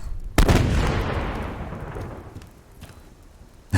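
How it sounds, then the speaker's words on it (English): A grenade blasts nearby in an outdoor firefight, a sudden loud boom that rolls off into a long fading rumble, with another sharp bang cutting in at the very end. "Grenade."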